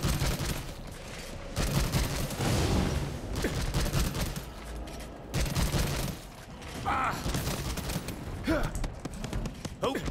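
The split shot weapon in the video game SYNCED fires in repeated bursts of sharp shots, loud and clustered with brief gaps, mixed with other game effects and a voice talking over parts of it.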